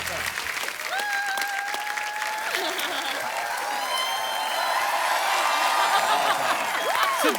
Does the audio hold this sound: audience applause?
yes